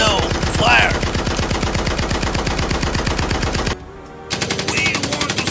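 Sustained machine-gun fire in a stop-motion battle of toy army men: fast, even, loud bursts that run continuously, briefly pause, then resume with more rapid shots.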